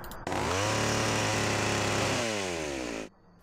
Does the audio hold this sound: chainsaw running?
yes